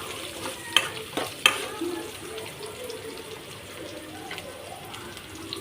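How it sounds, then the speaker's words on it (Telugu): Curry leaves are stir-fried in a pan for okra pulusu: a soft, steady sizzle with light spatula scrapes, broken early by two sharp metallic clicks, all fairly close. "కరివేపాకు రబ్బలు కూడా కొంచెం అయితే తొందరగానే ఉడికిపోతాయి అలా తిప్పుకుంటూ ఫ్రై చేసుకోవాలండి"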